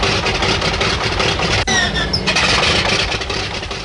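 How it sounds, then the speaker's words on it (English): A World War II aircraft engine starts on a Pacific aircraft carrier deck, a loud, dense roar with a brief sharp catch before the noise settles into a continuous rumble. "Stand by to start engines."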